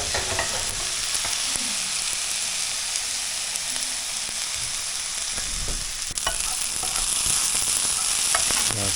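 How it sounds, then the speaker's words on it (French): Shallots frying in olive oil in a pan, stirred now and then, give a steady close sizzle with scattered scraping clicks of the utensil, with no talk. "Là, tu vas le faire frire, tu retournes de temps en temps pendant un bon petit moment."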